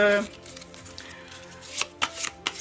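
A deck of goddess oracle cards is shuffled by hand, with several quick riffling bursts close by, following a moment of someone speaking at the start.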